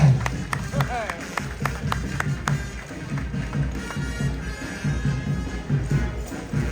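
Audience clapping for a marching band conductor at an outdoor parade performance in Changhua, Hemei, with a drum beat underneath, as a voice talks over the steady applause.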